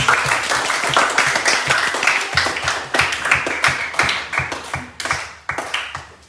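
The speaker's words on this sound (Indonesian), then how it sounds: "Tepuk tangan untuk kelompok Eropa." A school class claps together in a classroom, steady applause lasting several seconds with a few voices mixed in before the clapping tapers off.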